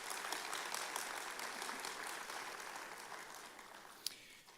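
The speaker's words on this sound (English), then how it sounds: "I think we need to give our department chair a round of applause." A fairly faint, distant audience applauds at a nurse pinning ceremony, a sustained crowd patter of many clapping hands with one sharp louder clap near the end and no one speaking.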